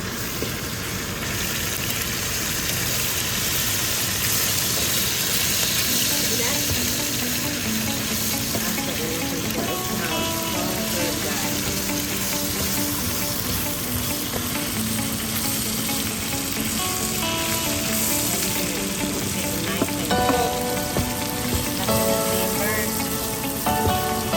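A spoonful of garlic sizzles and fries in hot oil in a pan for a jerk lobster penne alla vodka sauce, with a loud, steady crackle and faint stirring clinks throughout.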